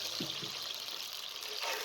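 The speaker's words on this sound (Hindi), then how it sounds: "इसके साथ आपने 1 कप पानी शामिल कर देना है।" Water pouring steadily into a pot while making sweet rice (zarda), a continuous close splashing rush lasting a couple of seconds.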